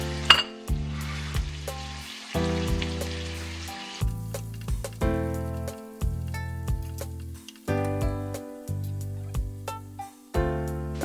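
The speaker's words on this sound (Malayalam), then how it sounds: "ഞാനിപ്പോൾ ഉള്ളി, വെളുത്തുള്ളി, ഇഞ്ചി, പച്ചമുളക് ഇത്രയും സാധനങ്ങളാണ് വഴറ്റിയെടുക്കാൻ പോകുന്നത്" Onion, garlic, ginger, green chili and curry leaves sizzling in a pan for chicken 65, a steady close fry with repeated scraping stir strokes and no talking.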